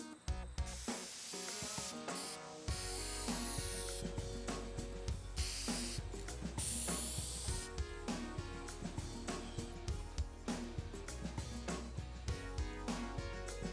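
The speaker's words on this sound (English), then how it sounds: "I will take it outside to give it a few coats of spray lacquer" Repeated hissing bursts of an aerosol spray lacquer can coating a wooden keyboard wrist rest, several short sprays in a row, close and fairly loud, with no talking.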